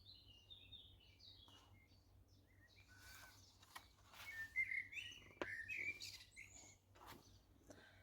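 Several birds chirp and tweet faintly at a distance, with scattered calls that grow busier midway over a quiet low hum.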